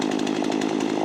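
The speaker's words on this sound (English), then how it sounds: "So we're going to go get it whilst we have the saw running" A cheap $89 gas chainsaw runs at full throttle while cutting a tree, its engine buzz loud, close and steady with a fast, rhythmic pulse.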